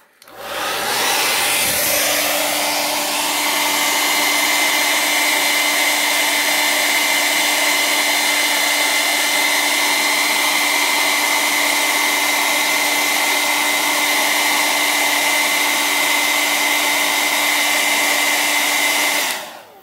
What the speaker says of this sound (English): I'm going to heat it with a hair dryer.